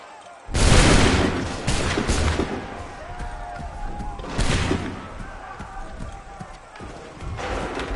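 Musket volley fire in Assassin's Creed 3 Remastered: loud broadband bursts crack out near the start and again mid-clip, with rumbling battlefield noise and scattered shouting voices running between and underneath the shots.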